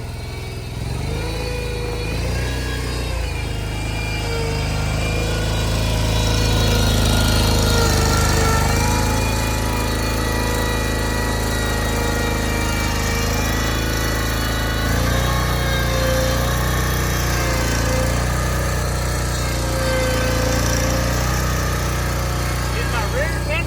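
Hustler Hyperdrive and Bad Boy Rogue zero-turn lawn mowers run with loud, close engine roar and deep rumble, swelling and easing over time while someone talks over the noise.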